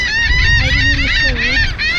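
Seabirds on Ocean Cay, a marine reserve island, honk and squawk loudly and repeatedly at close range, overlapping harsh nasal calls over a steady background rumble.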